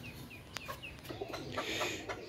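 Pakistani Rampuri teddy pigeons make soft, faint, close coos and rustles in a quiet pen, with a few brief chirps and flutters.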